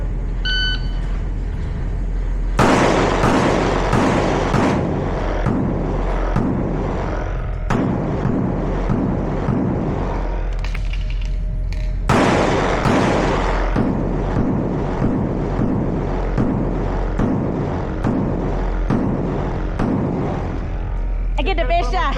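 Pistol shots ring out in fast strings during an IDPA shooting drill on an outdoor range, loud and sharp. Bursts of several rapid reports are separated by short pauses.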